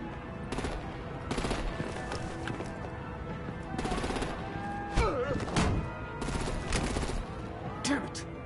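Bursts of rapid automatic and heavy gunfire rattle through a battle in Batman: The Enemy Within, loud and repeated, mixed with thuds and the voices of characters.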